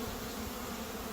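Honeybees taking play flights near a hive, a dense, even buzzing drone heard briefly at a distance and fairly faint, with no voices.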